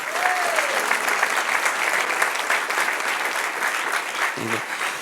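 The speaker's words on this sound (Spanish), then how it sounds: "Denle un aplauso al Señor para que lo lleve" A church congregation applauds during a sermon, the clapping a steady, dense wash at moderate volume, with a brief voice near the start and a short low thump near the end.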